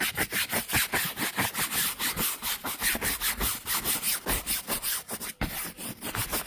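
A firm brush scrubs back and forth over the fabric convertible top of a Saab 9-3, giving fast, rhythmic rasping strokes, loud and close, with no talking.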